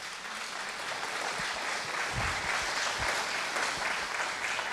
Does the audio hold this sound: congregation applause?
yes